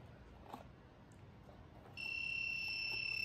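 A homemade MSP430 high-security money vault trips its buzzer alarm when opened, and a steady, piercing electronic tone starts midway and holds over faint background noise.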